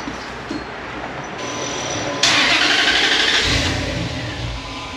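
A truck engine cranks and catches, then revs louder as the vehicle rolls a short distance, a steady close rumble with no talking.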